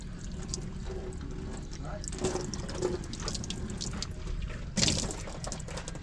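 Cold tap water running steadily into a basin during face washing in the Cordillera mountains, a continuous splashing hiss with a louder splash near the end and people talking over it.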